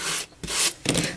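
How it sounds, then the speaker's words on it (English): A sanding block rasps back and forth along the edge of paper cardstock in three close, loud strokes with brief pauses, no voices. "Need to be careful if your sanding block is new that you don't rip your paper."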